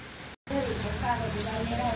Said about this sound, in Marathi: कालपासून पावसाचा जोर हा जास्त वाढला आहे